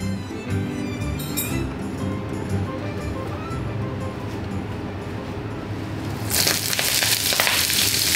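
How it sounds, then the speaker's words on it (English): Fresh greens stir-fried quickly in a hot wok for Cantonese soy sauce chow mein, a steady close sizzle and crackle with scraping and tossing, swelling into a louder, bright hiss in the final seconds. "Stir fry the greens. Do it quickly so they stay crunchy."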